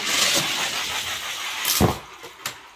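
Toyota and Ram Rebel utes racing head to head in a tight ute race, a broadband engine roar with a brief thump near the end and a couple of sharp bursts, fairly loud and close, with no talk.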